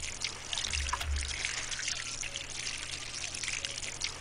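Water pours onto garden plants during watering, a continuous splashing trickle running steadily without pause.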